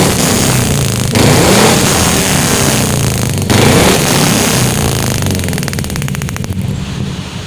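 A pickup truck with a trendy aftermarket exhaust revs hard several times, a loud, close, rough roar that surges and dips between throttle blips, with no talking over it.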